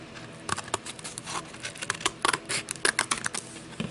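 Glitter paper being rough cut with a craft blade, a run of quick, close scratchy cuts and crisp ticks in an irregular rhythm, with no talking.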